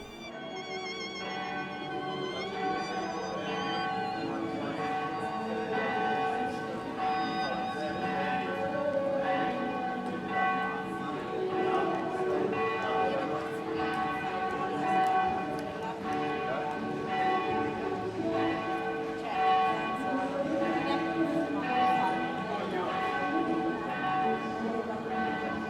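Church bells ringing from a bell tower on the main street of Pienza, a steady run of repeated clanging peals heard at moderate distance, continuing throughout with no talk.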